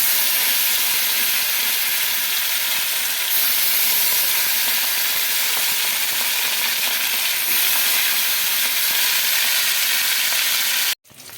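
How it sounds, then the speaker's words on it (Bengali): Fish pieces fry in hot oil in a pan, filling the space with a loud, dense, continuous sizzle and crackle that stays steady before cutting off abruptly at the end. "তেলটা গরম হয়ে গেছে, এবার আমি মাছগুলো দিয়ে দেবো"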